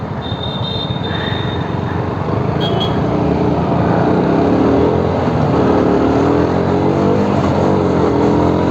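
A KTM Duke 125 BS6 motorcycle engine hums and whines steadily while riding at speed, close and loud, with wind rushing underneath and the note rising gradually.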